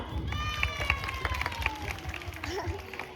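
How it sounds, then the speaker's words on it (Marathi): Audience clapping at a taluka-level school sports and cultural programme in Chandurwadi: a steady patter of many hands, fairly close, blended with crowd noise and a tonal voice or music running underneath. "पुरुषांना पुरुषांना कशा टाळ्या वाजायला सुरू आहे"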